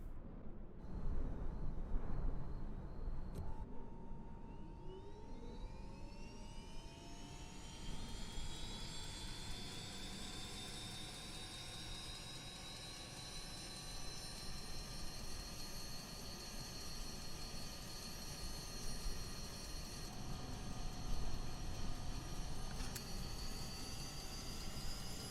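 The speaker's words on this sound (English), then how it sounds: "move a condition lever forwards to supply the engine with fuel as it's starting up" A video game Pilatus PC-12 turboprop engine starting, spooling up from a low rumble into a rising, steady whine with climbing tones, continuous and loud throughout.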